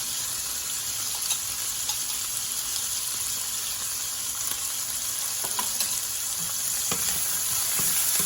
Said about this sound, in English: I love cooking the vegetables in the drippings of the sausage